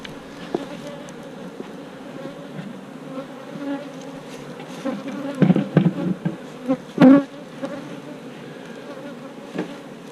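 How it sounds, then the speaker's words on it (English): A steady, dense buzz of many honey bees swarming around a hive, with a few louder bees passing close by. "These bees have been really cranking here."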